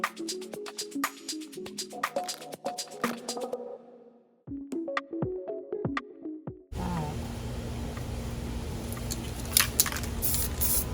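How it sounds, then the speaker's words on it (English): Baby blue spray paint hisses from a can onto a mirror in bursts of short sprays, then becomes one long steady, close spray that runs to the end. "I'm going to spray right over where we just went."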